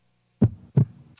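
Sampled heartbeat processed with EQ, added highs and heavy compression for a future rave production, two loud booming thumps in quick lub-dub succession with a short sustained tail.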